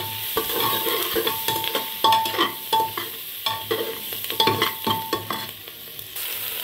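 Kashmiri red chili powder stirred into a pan of frying food with curry leaves, a steady sizzle under repeated scraping and stirring strokes, close and fairly loud, with no talking.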